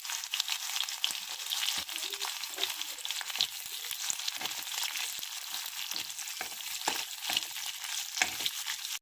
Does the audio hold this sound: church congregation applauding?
no